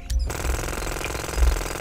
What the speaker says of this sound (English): We'll just drill down.